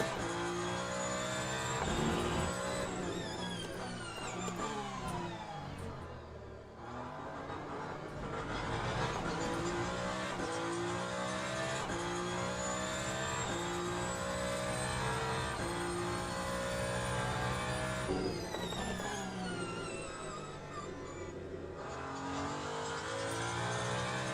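Peugeot 9X8 race car in Le Mans Ultimate on a wet track: a steady, loud engine whine that climbs through the gears, drops sharply under braking for corners and rises again, continuous for over twenty seconds.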